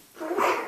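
One brief, muffled sneeze, fairly close and moderately loud, rising and fading within a second.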